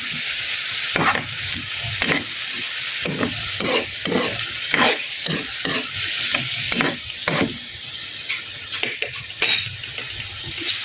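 Spatula stirring and scraping through food in a hot sizzling pan just after soy sauce is poured in, for a home-cooked bitter gourd (ampalaya) dish, with about a dozen rhythmic close-up strokes over a constant frying hiss.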